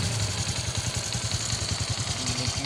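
A motorcycle engine that was flooded in high water runs at a steady, rough idle, chugging close by in a fast, even rhythm with metallic clatter and no voices.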